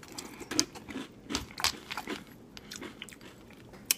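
Someone eating cereal from a spork, irregular close crunches and chewing clicks in quick succession, quiet and with no talk.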